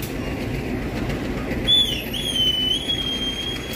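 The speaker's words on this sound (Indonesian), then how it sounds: "Kereta lokal di jalur 3 diberangkatkan." A Bandung local commuter line train departing Gedebage station from track 3, with a steady rumble of rolling cars and a high sustained whistle-like squeal joining midway.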